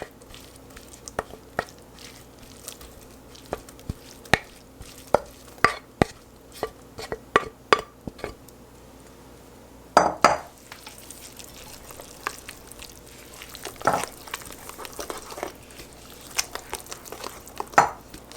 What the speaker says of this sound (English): then after that we're going to stir in the cucuzza